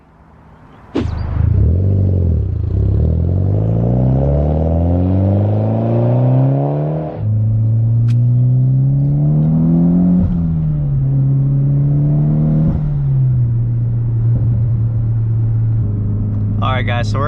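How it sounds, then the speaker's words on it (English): Mitsubishi Evo X engine revving and pulling hard through the gears from inside the car, loud and close, pitch climbing then dropping at each shift before settling into a steady cruising drone. "we're on the way to test out the car"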